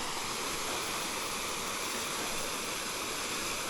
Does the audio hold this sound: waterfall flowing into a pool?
yes